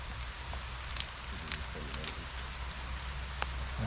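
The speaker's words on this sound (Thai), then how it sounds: "โอ้โหฝนตกนะ" Steady rain falls outdoors, a continuous soft hiss and patter with a few sharper taps and ticks of drops on nearby surfaces, and no talk.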